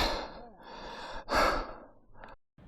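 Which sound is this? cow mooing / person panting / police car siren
person panting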